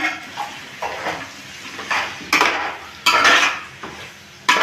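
A spoon stirring and mixing chicken curry in a metal pot with oil, a series of loud scraping and clattering strokes against the pot, each sweep rising and fading, with no talking.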